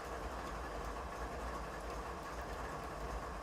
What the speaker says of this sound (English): while that locomotive's coming to a stop